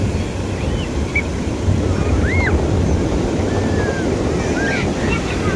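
Strong sea surf crashing and roaring continuously close by, with heavy wind buffeting the microphone throughout and faint voices underneath.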